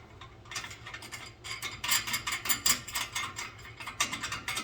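Nuts are screwed onto a car exhaust pipe bracket during a home repair: quick, irregular metallic clicks and ratcheting taps come in clustered bursts, close and fairly quiet, with no speech.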